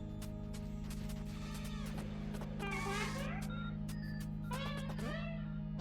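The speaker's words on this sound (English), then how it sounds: "Meow." Cat meows from the video game Pizza Tower repeat several times over a steady electronic hum, each call a short rising-and-falling yowl, fairly close and clear with no speech.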